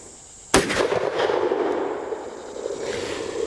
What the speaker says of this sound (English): This is a loud gun too.